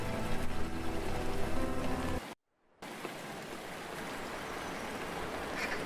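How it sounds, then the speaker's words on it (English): Rain falls in the video game Rainswept as a soft, steady hiss of drops, with a low tonal layer underneath at first, then a short total silence before the quieter patter resumes. "It is raining again."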